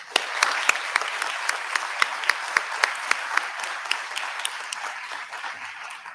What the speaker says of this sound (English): Big round of applause for them too.